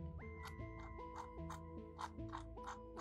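Soft, quiet clicks from a Logitech M90 computer mouse, about a dozen in a steady rhythm close to the mic, over a faint hum with no talking.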